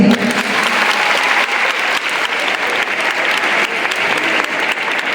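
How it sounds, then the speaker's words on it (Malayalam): A school audience of girls claps loudly and steadily in a hall at the inauguration of a school arts festival at Govt HSS Marayamuttom, a dense, continuous burst of many hands. "ഇനി നമ്മുടെ പെൺകുട്ടികളൊന്ന് കൈയടിച്ചേ"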